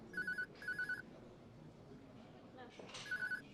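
A mobile phone rings in two quick electronic bursts, then a pause with room noise, then starts ringing again, fairly close.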